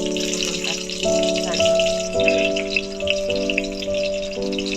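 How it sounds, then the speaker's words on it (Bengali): Pieces of pointed gourd (potol) fry in hot mustard oil, giving a steady sizzling hiss that runs throughout under gentle background music. "এবার আমি এক এক করে পটলগুলো তেলের মধ্যে দিয়ে দেব কারণ একটু হালকা একটু ফ্রাই করে নিতে হবে"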